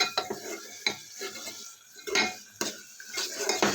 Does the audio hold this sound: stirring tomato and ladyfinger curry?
yes